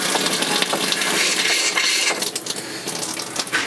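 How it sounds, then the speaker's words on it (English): Electric water pump in a Rockwood Geo Pro 19FBS travel trailer running as water rushes through the lines, a steady hissing gush with fluctuating splashy texture, no voices. "let's turn the water pump on"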